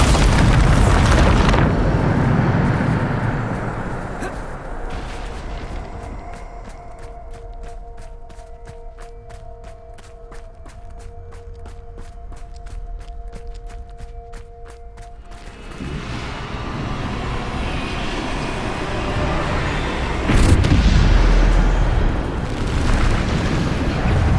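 Bombarda explosion spell in the video game Hogwarts Legacy: loud booming blasts at the start and end, with a rumbling, crackling stretch and a sustained magical tone between them.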